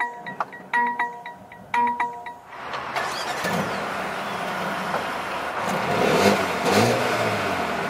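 2020 Mercedes-Benz A35 starting up: a few chimes and clicks from the cabin, then the engine catches with a bark and settles into a loud idle with a couple of throttle blips, no talk.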